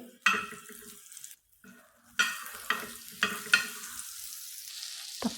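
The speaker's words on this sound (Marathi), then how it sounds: "आता इथे तवा आहे तो गरम झालेला आहे थोडंसं बटर घालून घेणार आहे" Butter melting on a hot tawa griddle for pav bhaji gives a soft, moderate sizzle broken by a brief pause, then a run of sharper crackling pops and scrapes close by.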